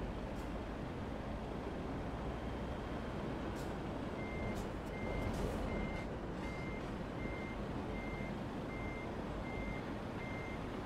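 Reversing beeps from a truck in Euro Truck Simulator 2 sound as a steady series of evenly spaced, moderately loud tones over a constant engine rumble, with no talking.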